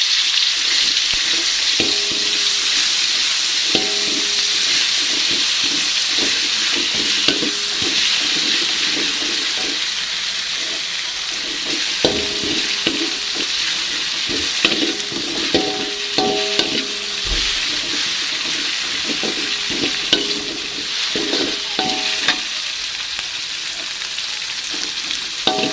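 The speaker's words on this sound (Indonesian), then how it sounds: "Nah, ini minyaknya sudah panas, langsung aja kita tumis bumbunya." A spice paste is stir-fried in hot oil for a village-style snapper and spinach dish, with a continuous loud sizzle broken by frequent scraping and clinking stirring strokes; no one speaks.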